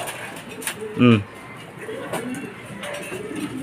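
Racing pigeons return to the loft during a fun race, with a brief burst of cooing or wing sound in an outdoor setting while people talk over a steady background hum.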